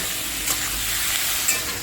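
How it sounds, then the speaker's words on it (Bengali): Pumpkin frying in a pan with onion, dried red chillies and green chillies gives a loud, steady sizzle close by, with a couple of brief clinks of stirring and no voices. "সকালবেলা মিষ্টি কুমড়ো ভাজছি আর পেঁয়াজ দিয়ে আর হচ্ছে মিষ্টি কুমড়ো দিয়ে ভাজা হচ্ছে শুকনো লঙ্কা কাঁচা লঙ্কা দিয়ে"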